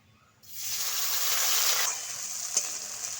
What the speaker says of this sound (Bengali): এবার ফোড়নের মধ্যে দিয়ে দিচ্ছি আমি কোচানো পেঁয়াজ